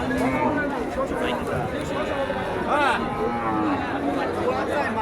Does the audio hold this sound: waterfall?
no